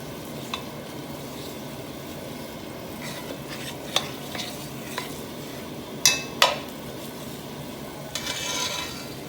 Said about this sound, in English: we got the butter going, and we mix the flour in with the butter.